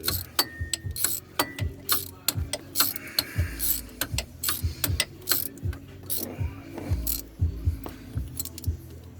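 Ratcheting wrench clicks in short bursts while snugging the water pump bolts into the aluminum housing on a 2005 Ford Mustang 4.0 V6, with repeated close rhythmic ratchet runs and metallic tool clatter between them.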